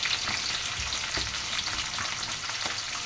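Chopped green chillies and onions frying in a pan, a dense, continuous hiss and crackle with occasional stirring knocks, close and fairly loud.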